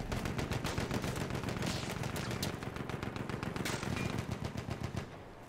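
Gunfire in Battlefield 1: steady, fairly quiet rapid automatic fire that rattles on for about five seconds and then fades.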